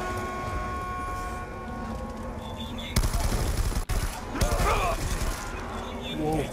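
Rapid automatic AK rifle fire in Black Ops 2 zombies mode, continuous loud bursts over a game soundtrack, with people talking.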